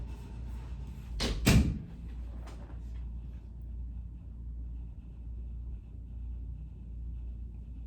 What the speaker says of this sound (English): You close that door.